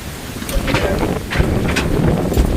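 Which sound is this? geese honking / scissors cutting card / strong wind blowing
strong wind blowing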